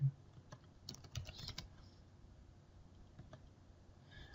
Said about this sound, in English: I'm going to type in Peter